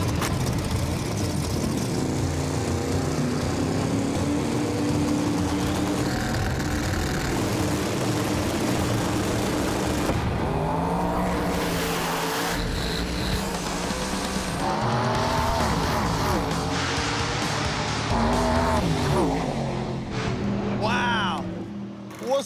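A drag racing car launches on new tires with a loud roaring engine and squealing wheelspin, the revs rising and falling as the driver pedals it, with talk over the noise.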